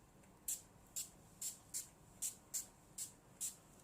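Eight quick, hissing spritzes from a makeup setting spray bottle, evenly spaced and fairly soft in a quiet room.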